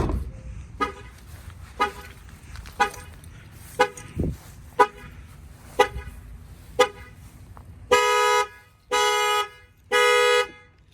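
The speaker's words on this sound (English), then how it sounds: "if somebody opens up this tailgate, it will fire off the alarm as well" A Chevy Silverado's alarm is triggered by opening the tailgate: a run of evenly spaced clicks or chirps, then three loud, long horn blasts at a steady rhythm, close by.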